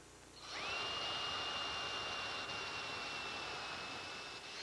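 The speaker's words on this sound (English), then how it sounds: "So the first thing I do is drill the pilot hole to the right depth." A step drill bores a pilot hole into wood for a kitchen pantry build, spinning up quickly and then holding a steady, whining tone, moderately close, with no talking.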